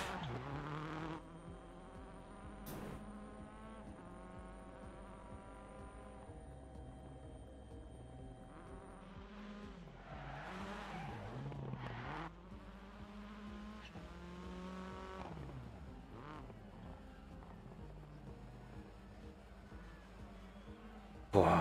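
A worn, screechy Ford Focus rally car engine in the WRC 2023 video game drones steadily and loudly, its pitch rising and falling through gear changes and throttle lifts for the whole stretch.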